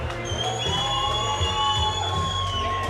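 A crowd at a hybrid boxing league fight night roars and cheers after a second-round knockout, a loud, dense, sustained wall of voices with whoops rising through it.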